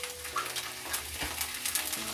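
A tablespoon of ghee hisses and sizzles softly in a small tadka pan while Punjabi sarson ka saag is prepared, with a steady frying crackle and faint pan clinks.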